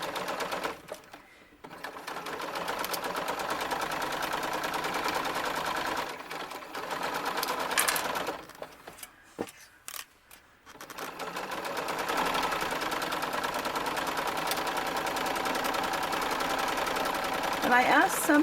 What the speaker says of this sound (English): I'm coming up to the crotch seam, and here I am going to back tack just a little just to reinforce that